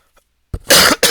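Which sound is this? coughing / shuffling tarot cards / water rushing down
coughing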